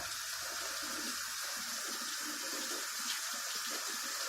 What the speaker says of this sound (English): After I rinse my spoon off, so I have to rinse my stuff off.